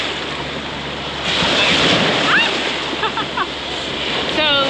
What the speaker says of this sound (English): The waves are crashing. There's not a lot of waves because it is the Gulf, but they're still crashing.